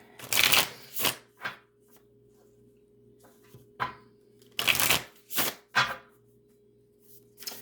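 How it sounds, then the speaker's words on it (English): Oracle cards being shuffled in several quick riffling bursts separated by short pauses, close and crisp, with no talking. "I'm going to shuffle the oracle and see what message I get here."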